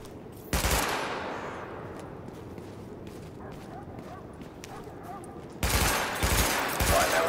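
Weapon-test gunfire in the game The Division comes in two loud, close bursts of rapid automatic shots at the start and end, with a synthetic voice and quieter game ambience between them.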